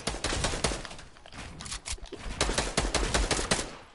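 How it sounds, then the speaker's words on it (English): Rapid bursts of gunfire in a shooter video game, dense and loud, with fast repeated shots in clusters and brief pauses between volleys. "Stop shooting them."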